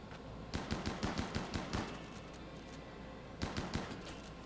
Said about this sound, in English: Chain shotguns for the win over here.